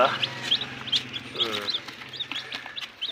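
Chickens cluck and chirp in quick, irregular bursts nearby, a continuous clucking chatter with faint background noise.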